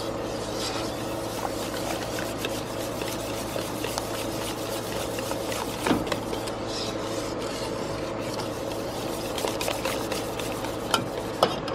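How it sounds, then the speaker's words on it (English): A spoon scrapes and stirs thick beer cheese in a pot, a steady, close rasping that runs continuously with occasional clinks and no voices. "You always want to stir it all the time."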